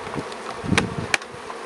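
Honeybees buzz faintly as they are released from a shipping cage into a hive, with a couple of sharp knocks and clicks breaking through the soft hum.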